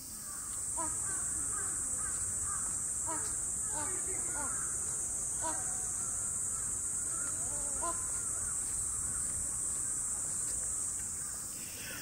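Crows caw repeatedly at a distance in Japan, a scattered series of harsh calls over a steady high insect drone and outdoor hiss.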